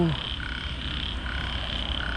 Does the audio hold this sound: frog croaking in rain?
yes